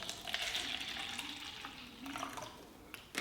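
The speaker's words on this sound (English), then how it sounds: "I'm going to add my apple juice directly to my mixture." Apple juice poured straight into a homemade antibiotic mixture, a steady liquid splash running close and continuous for several seconds before tailing off near the end.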